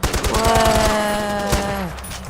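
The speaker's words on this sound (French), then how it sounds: "Bam, une balle dans la tête." Gunfire in the shooter game Far Cry 4, a loud burst of rapid shots followed by a droning, falling tone, with a sharp report again partway through.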